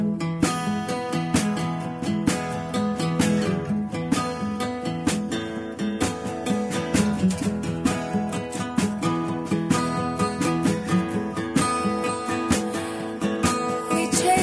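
Acoustic band playing a song live in a lounge, a full and steady strummed and rhythmic performance that continues throughout without talking.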